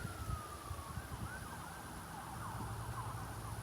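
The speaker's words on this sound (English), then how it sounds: "That's an ambulance, I guess. It's so rare for us here to have that sirens." A wailing ambulance siren passes in the distance, faint and steady under low outdoor background noise, with its rising and falling tone clearly audible throughout.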